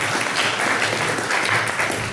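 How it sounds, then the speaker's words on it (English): Audience applause for a panel host at a 360 VR broadcast and cinema panel event, steady dense clapping filling the whole stretch with no voices over it. "So first, let's give James a round of applause."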